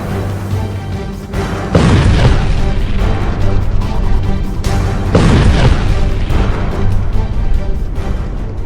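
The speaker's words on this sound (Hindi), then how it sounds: "शांत पड़े इलाके में अचानक से एक बड़ा धमाका होता है" Two heavy, loud booms from a big explosion in a quiet area, each hitting suddenly and leaving a long rumbling tail.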